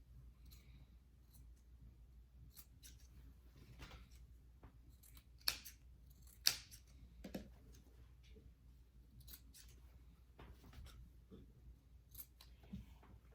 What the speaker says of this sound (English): And now we're going to clip the corners.